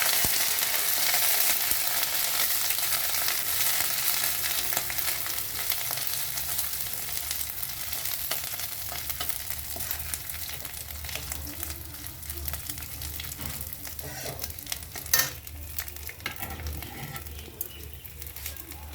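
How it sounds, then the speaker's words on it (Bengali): Chopped ginger frying in hot oil in a pan, a steady close sizzle and crackle running throughout, with a brief clatter near the end, no talking. "এটাকে একটু ভাজা ভাজা করে নেবো।"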